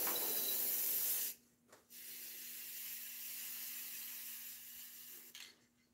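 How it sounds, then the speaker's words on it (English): A spray paint can used for furniture painting hisses in a steady, close, broadband stream, briefly cutting out twice before resuming, then sputtering off near the end. "It's just the spattering, you know, when your can's not fully, or when your trigger's not fully depressed"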